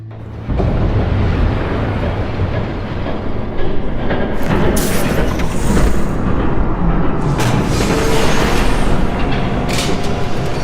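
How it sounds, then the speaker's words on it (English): A train approaching in Batman: The Telltale Series, a loud, continuous rumble of rolling wheels and rail clatter that builds and persists, with sharp metallic clanks and hissing bursts on top. "There's a train coming."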